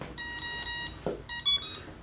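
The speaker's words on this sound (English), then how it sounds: "And because we already bound it, all we need to do now is plug in our battery." An RC plane from a Flite Test FT Pietenpol build chirps out a series of loud, clear electronic beeps after its battery is plugged in, in two quick runs separated by a brief pause, with no talking.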